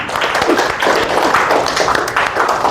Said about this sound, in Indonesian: Oke, tepuk tangan dulu buat Rosita.